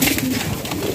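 A pigeon coos softly up close during a pigeon sale in Bahawalpur, a short low throaty burble lasting about a second against a busy background.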